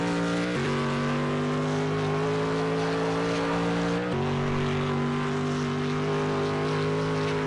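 Race car engines at the Le Mans circuit holding a steady loud drone, with a sharp gear shift near the start and another mid-way, the pitch stepping up after each change, no talking.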